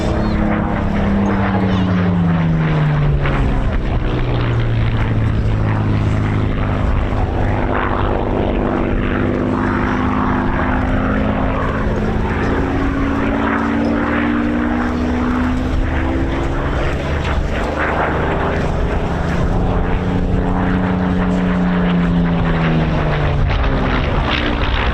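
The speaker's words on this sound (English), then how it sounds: "This is without doubt the most famous Spitfire in the world." Spitfire Mark 9B, built at Castle Bromwich, flying past at an airshow, a loud throbbing propeller-engine drone whose pitch sweeps down and up repeatedly as it passes overhead, sustained for the full length.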